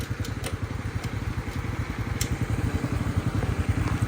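A three-wheeled motorcycle rides on an asphalt road, its engine putting out a steady, close, rhythmic pulsing throb.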